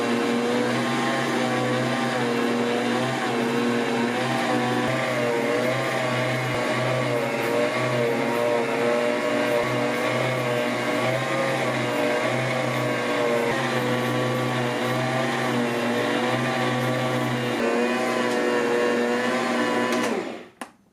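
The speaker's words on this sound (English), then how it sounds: "Now I'm going to turn the mixer to speed 2 to really knead the dough." A Bosch Universal Plus stand mixer kneads dough at speed 2, its motor giving a loud, steady, unbroken drone for about twenty seconds before it cuts off abruptly at the end.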